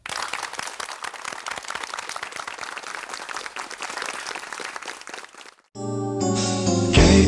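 Studio audience applause at the end of a KBS television show, dense, crisp clapping for about five and a half seconds that cuts off abruptly into a loud musical sting.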